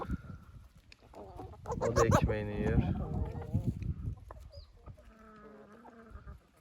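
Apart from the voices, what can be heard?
chickens clucking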